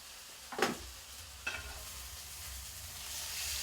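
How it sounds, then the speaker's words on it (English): Flap steak sizzling in a hot pan for carne asada as it is flipped, with two brief bursts of scraping and movement over a steady low frying hiss, no voices. "I'm just going to turn my back just a second to turn my other piece of flap steak over."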